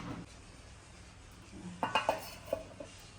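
A lid is set onto a pot of chicken handi, producing a few close metallic clanks and clinks in quick succession after a quiet stretch, with no speech.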